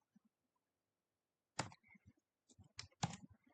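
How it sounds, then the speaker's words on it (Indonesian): A computer keyboard in a quiet room gives a few soft taps, then a sharper cluster of crisp clicks as a key is pressed, including the Enter key, with brief pauses between the strokes. "Jangan lupa kita enter lagi"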